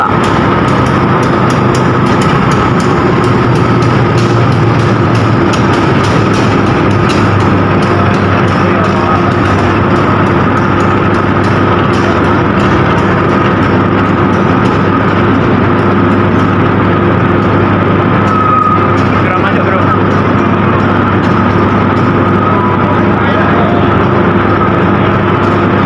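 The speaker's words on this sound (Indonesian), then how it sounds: "Di sini lokomotifnya akan diputar lalu berpindah arah mengarah ke arah Surabaya" A locomotive idles and maneuvers at Kertosono station as it is turned to head toward Surabaya, a loud continuous diesel engine drone with steady low hum throughout, no breaks.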